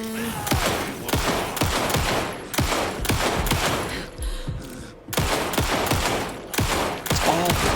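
Rapid pistol gunfire from the video game Alan Wake 2, sharp repeated shots in quick bursts with brief pauses, loud and close with no talking.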